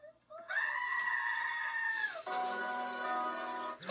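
A goat lets out a long, loud, nasal bleat, followed by another sustained, wavering cry, close to the microphone.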